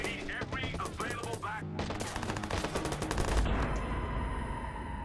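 Gunfire rattles in the Watch Dogs video game. Rapid bursts of shots come close and loud, sometimes as sustained automatic fire, with some mixed game sound.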